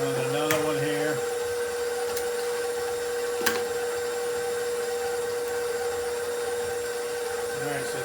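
An electric mixer beating batter for alfajores, a steady continuous whir held throughout at moderate level, with a few faint clicks and knocks.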